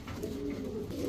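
A pair of silver pigeons coos in a low, continuous throaty burble, steady and close throughout the short stretch.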